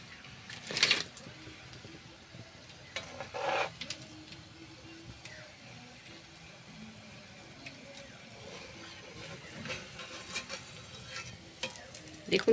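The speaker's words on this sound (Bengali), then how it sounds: "চপগুলো আমি লাল লাল করে ভেজে নেবো" Kolkata-style vegetable chops deep-fry in hot oil with a soft, continuous sizzle, broken by a few louder clinks and knocks from a utensil near the pan.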